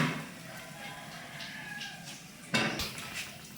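A pot of wedding-style beetroot poriyal is lifted off a home stove, giving a sudden metallic clatter and scrape after a few seconds of quiet kitchen background.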